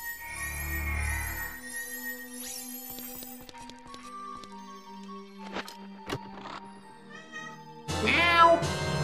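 A cat meows in the video game Ocarina of Time amid chiming game sound effects and tones, with a brighter burst near the end.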